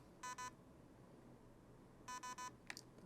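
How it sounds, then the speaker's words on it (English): Electronic beeps from an SSR4 ETU paintball gun in programming mode: two quick tones, a pause, then three tones in steady succession, followed by a couple of short chirps. "Now we wait for 3 beeps."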